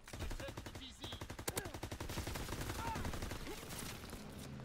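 Rapid sustained automatic fire from an MP40 submachine gun in a video game, a dense rattling stream of shots lasting several seconds, loud and close with only brief breaks.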